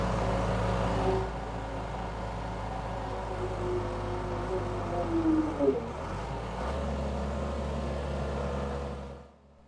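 A Case 1840 skid steer engine running close by, a loud steady diesel drone with a brief rev and a falling whine midway, then settling before cutting off at the end.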